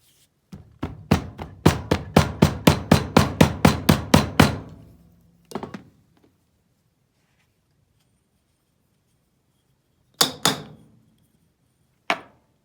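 A rapid series of about fifteen sharp, solid thuds as a hammer packs casting sand into a mold, then a couple of isolated knocks after a pause, close and loud with no talking.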